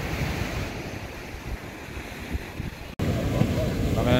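Strong ocean waves roll and crash at a beach where boats are gathered, with heavy wind buffeting the microphone throughout and a voice briefly heard near the end.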